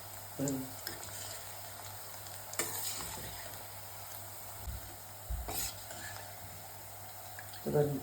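Nendran banana slices frying in oil with turmeric water added, a continuous moderate sizzle broken by occasional splashes and utensil knocks, close by with no talk.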